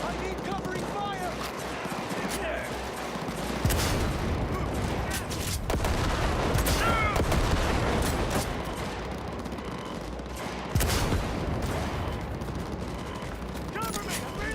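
Sustained gunfire from a firefight in Cyberpunk 2077, dense and loud throughout, with a few sharper heavy reports punching through.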